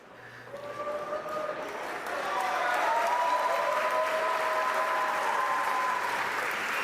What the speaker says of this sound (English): What are they cheering about?